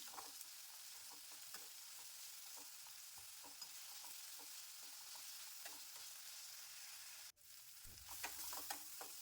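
Chopped tomatoes and onions frying in a pan for egg masala curry, with a steady soft sizzle and occasional stirring scrapes, close but quiet, ending with a louder burst of sizzling.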